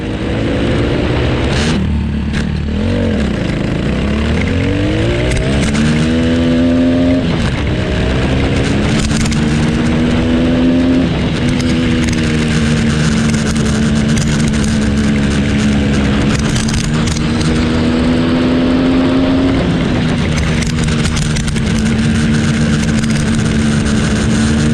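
A homemade go-kart lapping a home-built track, its small engine buzzing loudly and continuously with pitch rising and falling as it speeds up and eases off through the turns.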